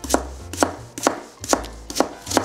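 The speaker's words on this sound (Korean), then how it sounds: "채 썰어주세요." A knife julienning Korean radish for doenjang soup chops against a cutting board in a steady rhythm of six crisp, close strikes about half a second apart, alone with no talk.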